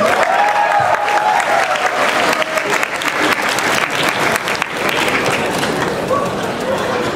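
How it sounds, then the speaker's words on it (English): Guests at a youth charity dinner break into loud applause, a dense and steady clapping close by, with faint voices and cheers mixed in. "at least give your own self a round of applause."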